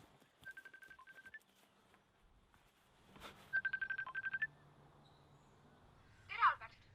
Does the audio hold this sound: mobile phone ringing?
yes